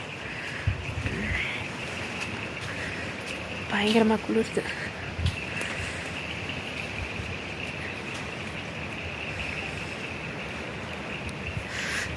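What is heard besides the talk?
wind blowing and rain at night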